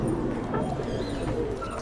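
Madrasi pigeons cooing close by, soft low throaty coos repeating over a murmuring background.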